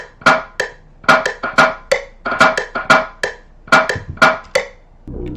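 Afro pop drum bounce built as a sample beat, with a punchy, clipped kick-and-snare pattern and quick little rolls between hits. The sound is dry and close, with no voices over it.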